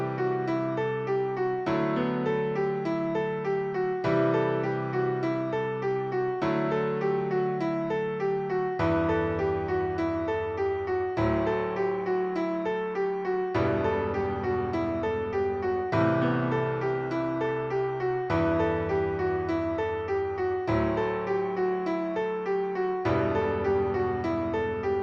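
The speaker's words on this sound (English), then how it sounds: "Let me just do it with just the piano." Solo piano plays steady repeating chords with a low bass note shifting every couple of seconds, building evenly throughout.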